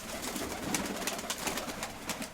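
Soft, steady pigeon cooing over a dense background of chirping and rustle, continuing throughout without a clear pause.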